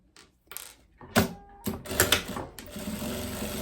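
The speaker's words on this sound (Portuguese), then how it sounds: "eu vou fazer a costura aqui, ó, da minha manga na minha cava" Domestic sewing machine stitching a viscose dress sleeve into the armhole, with short bursts of fast needle clatter separated by pauses, handling clicks and thumps, close up and without speech.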